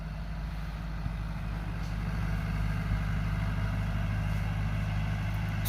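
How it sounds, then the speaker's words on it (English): A tractor pulling a finish mower through tall grass, a steady low engine drone heard from a distance, constant and unbroken with no voices. "But look, just with this finish mower, you know, and then he goes down and around and over there"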